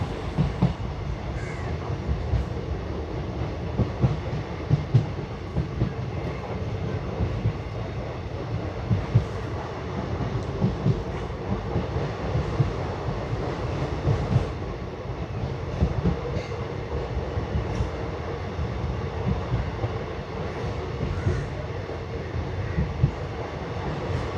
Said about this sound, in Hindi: बहुत ही मॉडेस्ट स्पीड पे हम पंबन रेलवे स्टेशन को स्किप कर रहे हैं